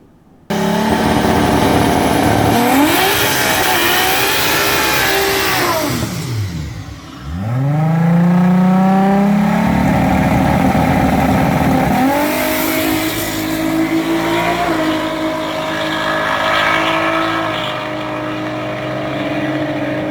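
A boosted drag race car launches and screams up through the gears on its first pass down the strip, the engine note climbing loud and close with shift breaks before it lifts off near the end.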